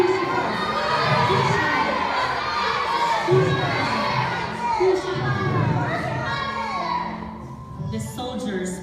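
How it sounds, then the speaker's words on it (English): A crowd at a passion play shouts and cheers in a loud, sustained roar of many voices, rising and falling in waves before dropping away near the end. "The crowd started to shout,"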